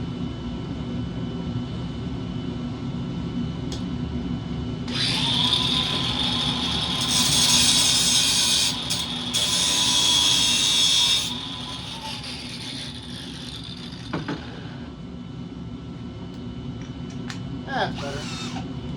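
A power drill with a burred bit whirs loudly in two long bursts during a 6.0 build, a steady high whine holding for several seconds each time before stopping.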